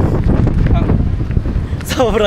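Strong wind buffets the microphone in a loud, continuous low roar aboard a ship during a storm at sea, with muffled voices faintly beneath it.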